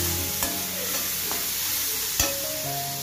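Gravy sautés in a pan with a constant dense sizzle, a couple of sharp utensil scrapes standing out against the steady hiss.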